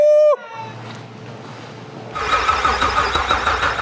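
First start of a 900hp Cadillac CTS-V fitted with a 2.9L Whipple supercharger: a brief high tone and a low hum, then the engine fires and settles into a loud, rough, rumbling idle.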